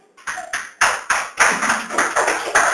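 A church congregation claps for Jesus in a steady run of sharp, close claps that carry a bright, roomy ring and go on without pause.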